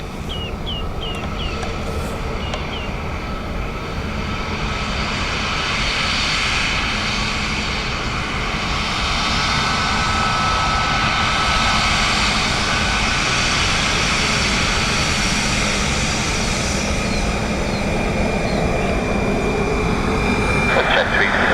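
A passenger jet roars in to land on runway 28 left at Dublin Airport, a loud, steady, sustained engine drone filling the scene for over twenty seconds, with faint radio chatter under it.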